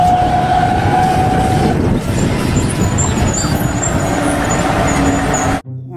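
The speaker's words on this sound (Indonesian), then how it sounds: "Mobil derek." A toy tow truck plays a loud rumbling engine sound with a wailing siren tone layered on top, continuous and close, then stops suddenly at the end.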